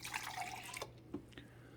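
Keurig iced coffee pours into a cup in a short burst of trickling, splashing liquid, then fades into a few quiet drips.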